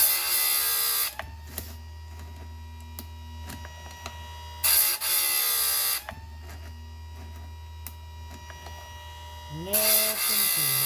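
A Harbor Freight chainsaw sharpener grinds the edge of a dull chain in three loud bursts of high, harsh whine, separated by steady lower motor hum between passes.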